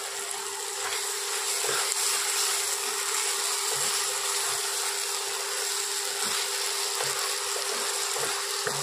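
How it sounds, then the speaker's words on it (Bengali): Ginger garlic paste and ground cumin frying in hot oil for a mushroom masala curry, giving a steady, even hiss that stays at one level with a few soft ticks and no talking. "এটা 20 থেকে 25 সেকেন্ড ভাজতে হবে"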